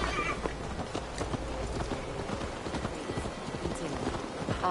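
Horse hooves clip-clop in a steady, fairly quiet rhythm as a rider travels through the wild forest of Gloucestershire in Assassin's Creed Valhalla, with no talk over them.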